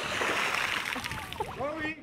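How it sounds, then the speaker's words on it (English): A giant magnet thrown into a city canal lands with a broad watery splash and slosh, with people talking close by as the water settles. "Trying to splash Wim, huh?"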